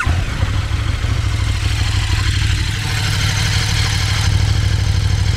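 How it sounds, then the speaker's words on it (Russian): A KTM 1290 Super Duke motorcycle idles steadily and loudly close by, its deep, even engine note carrying a rattling, knocking character that the bike is known for, with no voices over it. "работает как КТМ. Гремит, стучит, но это является нормальной для этого мотоцикла"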